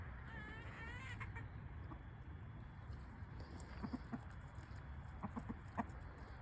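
Chickens cluck softly inside a winter coop, with short scattered clucks and faint calls, low and fairly close, over a quiet background hiss.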